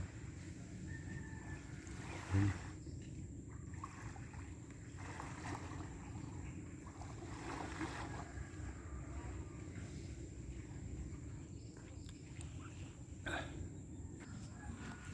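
Steady low rumble of the sea with wind buffeting the microphone, a continuous wash of surf-like noise throughout.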